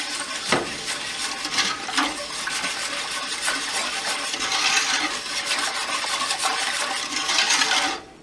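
A whisk scrapes and clinks around a pot as eight cups of sugar are beaten into a cucumber, pepper and celery relish mixture, a continuous gritty stirring with sharp metallic taps, close and fairly loud.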